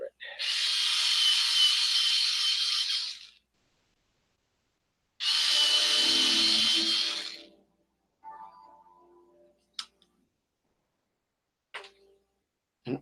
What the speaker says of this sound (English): Here's violet. Let me sharpen it up.